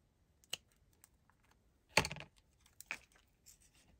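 Trimming plastic off a paper flag banner card craft, a few brief crisp snips and crinkles close by, with a longer rustling cut in the middle among quiet pauses, no talking.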